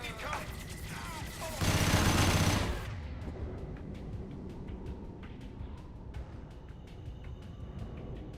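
Sustained burst of automatic weapon fire in the sci-fi shooter game Mass Effect 2, loud and dense for about a second, then sparse distant pops and clicks of combat under a low rumble.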